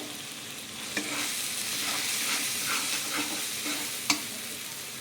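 Masala with Kashmiri chili and sesame fries in a pan for chicken kosha, a steady moderate sizzle with soft stirring scrapes and two sharp utensil taps.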